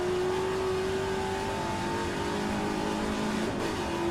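A classic Trans-Am race car at the Bathurst circuit roars loud and close as it runs in another car's slipstream, its engine note steady with a slight pitch shift.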